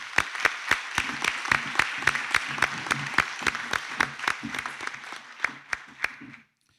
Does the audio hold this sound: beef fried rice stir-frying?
no